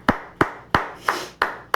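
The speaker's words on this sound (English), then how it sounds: "Let me give a round of applause for y'all right now" One person claps six sharp, close, evenly spaced times, each clap ringing briefly.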